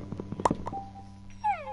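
A cat in the video game Minecraft gives one short, clear meow near the end, after a few soft clicks and game noises, with no talking.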